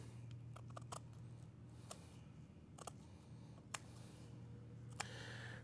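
Quiet, scattered snips of shears trimming weft cords along the edge of a woven flat weave rug, faint crisp clicks over a low steady hum with no talk.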